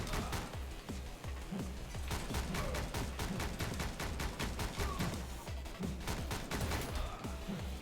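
Gunshots in the side-scrolling game Canabalt with Guns fire in a steady, rapid rhythm over a constant background bed, each shot sharp and evenly spaced, with no talking.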